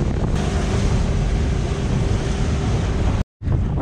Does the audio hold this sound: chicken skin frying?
no